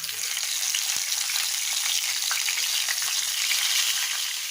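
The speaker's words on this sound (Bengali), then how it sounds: "এখন ইলিশ মাছ ফ্রাই করব" Hilsa fish rubbed with turmeric and salt fries in hot oil, producing a loud, continuous close-up sizzle with faint crackles and no voices.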